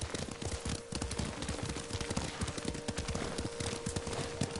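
Steady clip-clop of horse hooves in the video game Ghost of Tsushima at a brisk, even trot, continuous and fairly close, over a dense background hiss.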